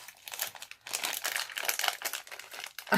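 Crinkly plastic packaging holding stylus tips is worked open by hand, giving a continuous close crackle and crumple for about three seconds, with a short sharper burst at the end.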